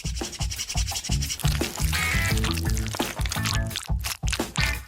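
Seasonings are sprinkled and rubbed by hand onto meat legs, a close series of rhythmic rubbing and brushing strokes with short pauses, with no talk.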